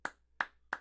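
Three short hand claps from a comedy show audience, evenly spaced and sharp, with no talk over them.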